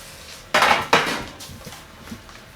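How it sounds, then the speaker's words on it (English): Roulade mixture for a gluten-free lemon roulade scooped into a baking tray, giving two sharp close scraping clatters of utensil against tray followed by fainter scrapes. "That's it, just being scooped into the tray"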